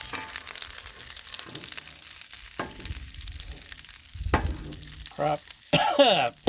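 Corn on the cob sizzles on a Blackstone griddle, a steady frying hiss broken by a few scraping spatula turns and clatters near the end, with no talk.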